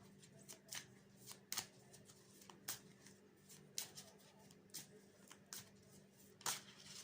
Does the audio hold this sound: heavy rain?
no